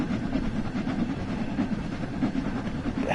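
A steam train runs in the Train Sim World 2 video game, giving a steady, loud rumble with soft rhythmic clatter and hiss and no gaps.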